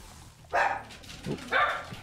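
Two pet dogs named Maggie and Mojo bark indoors, two sharp barks with a softer yelp between them, moderately close over quiet game sounds.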